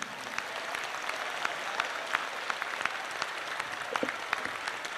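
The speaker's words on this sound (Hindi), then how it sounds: "तो जोरदार ताली सभी पुरुष बजाएं" A large gathering of men at a religious assembly claps loudly and continuously, a dense, even wash of applause that holds strong throughout with scattered sharper individual claps.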